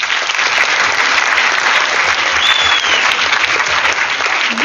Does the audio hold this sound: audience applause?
yes